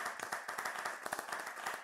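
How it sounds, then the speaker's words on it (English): A live conference audience claps hands together at a photo moment, a dense run of quick, overlapping claps at moderate loudness with no talk. "clap your hands"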